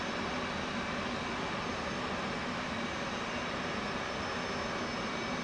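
An F-18 jet engine spins up in a flight simulator game, producing a steady, dense roaring whine that holds constant and loud throughout with no voices.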